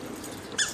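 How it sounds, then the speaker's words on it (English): A dog gives a brief, high-pitched squeak near the end of a short stretch of quiet room tone, faint at first and then sharper for a moment. "your dog is squeaking"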